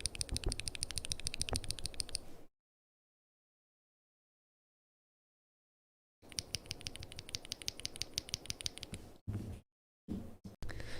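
Mechanical keyboard with north-facing yellow switches being typed on, giving rapid clacky keystrokes in bursts separated by silent gaps, close-miked, quiet and without voices.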